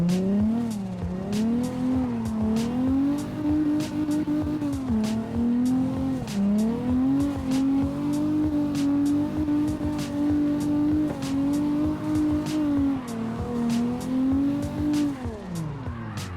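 A car drifts in the CarX Drift video game, its engine droning and rising and falling in pitch with throttle changes while short tire chirps and clicks punctuate the run, loud and continuous throughout.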